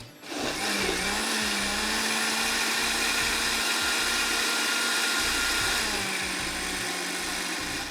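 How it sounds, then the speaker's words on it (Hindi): A blender whirs loud and steady while blending chickpea salsa, its motor spinning up at the start and holding a constant, close, high-pitched drone throughout. "इसको अब मैं ब्लेंड कर लूँगी"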